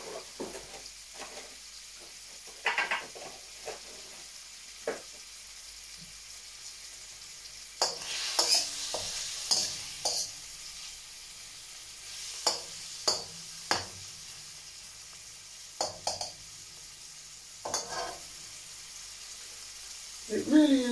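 A simple stir fry sizzles softly in a pan, with a steady low hiss broken by repeated sharp scraping and stirring clatters, some faint, others closer and louder.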